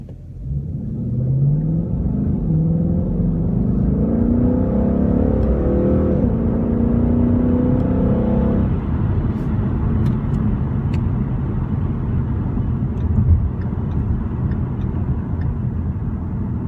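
A 2016 Ford Mustang GT base model with an automatic transmission pulls away from a red light, its engine rumbling and revving upward through the gear, then shifting and settling into a lower steady drone, heard from inside the car.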